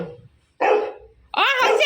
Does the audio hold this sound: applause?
no